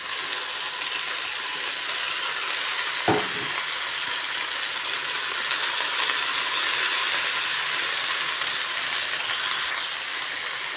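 Tomatoes frying in a pan for a dish with fish bagoong, a steady close sizzle and crackle with a brief clack of a utensil early on, no talking.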